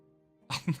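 A single short sneeze bursts out in two quick parts after a low, steady hum, close and fairly loud.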